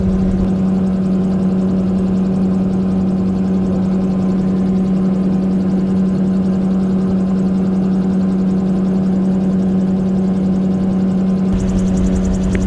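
An open cockpit gyrocopter engine drones steadily in flight during winter, a constant loud mid-pitched hum with rushing wind noise throughout and no voices.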